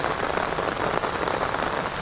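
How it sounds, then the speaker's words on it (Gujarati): Rain falls steadily in Surat, a dense, even patter on surfaces that stays constant and fairly loud throughout, with no speech. "હજી વરસાદ ચાલુ જ છે"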